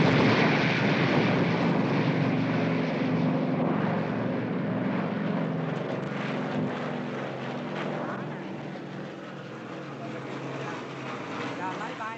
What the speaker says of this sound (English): The planes again.